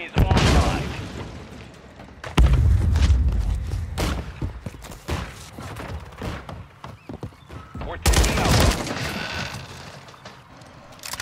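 Heavy grenade booms and bursts of gunfire erupt in Call of Duty: Modern Warfare 3 multiplayer, loud and close, separated by stretches of rattling shots while in-game voices call out underneath.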